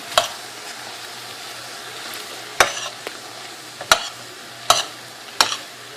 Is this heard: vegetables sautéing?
yes